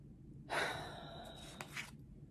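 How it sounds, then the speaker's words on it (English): A single deep breath drawn in sharply then slowly let out, close and breathy, lasting under two seconds in an otherwise quiet room. "deep breath."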